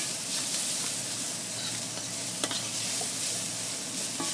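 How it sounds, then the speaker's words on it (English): Garlic sizzles steadily in a hot pan, a constant bright frying hiss with faint scrapes from stirring and no talk. "You only want to cook garlic for about 1 minute, just so that the oils begin to release."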